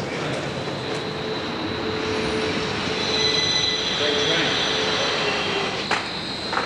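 Heathrow Express train at a London station, a steady rumble with high wheel squeal building and fading, with indistinct voices nearby.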